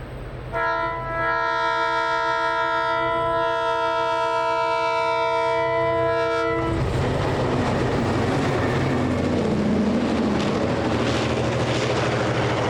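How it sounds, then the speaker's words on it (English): Excursion train crossing the Hautapu River with its horn sounding a long, loud chord for several seconds, then giving way to a steady rumble and rush of the passing cars. "Light fades as the train crosses the Hautapu River and around the horseshoe curve"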